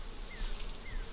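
Wild bees buzz around a honeycomb in a tree, a steady close insect drone with a faint rising whine passing by twice, no talk.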